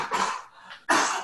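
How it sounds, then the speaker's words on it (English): Two sharp coughs from a person at a computer during an online webinar, close to the microphone, separated by a brief pause. "Maybe I'll just step away from the microphone because I need to cough."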